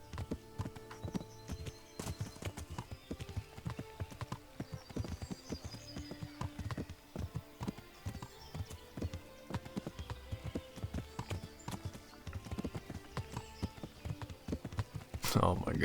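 Horse hooves clip-clop steadily through the medieval role-playing game Kingdom Come Deliverance, a continuous rhythmic run of quiet taps on the ground lasting the whole stretch, with a faint voice in the background.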